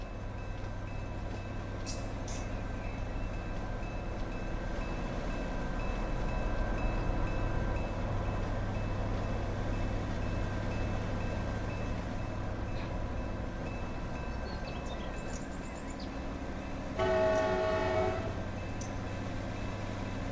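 Freight train pulling forward in the Run 8 train simulator game on a Modesto & Empire Traction local, a steady low diesel rumble with a short horn-like blast near the end.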